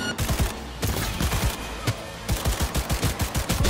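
Rapid automatic gunfire in the video game Cyberpunk 2077, dense overlapping bursts of shots in quick rhythm, loud and close throughout.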